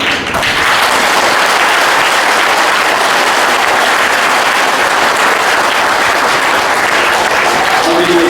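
An audience applauds at a Tamil Nadu yoga competition event, a dense, loud, sustained round of clapping from a large crowd that fills the whole stretch without a break.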